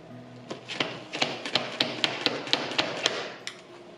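A sponge is dabbed against a wall to apply decorative plaster for a constellation-effect finish, giving a run of about a dozen quick, fairly even taps over a few seconds, close and moderately loud.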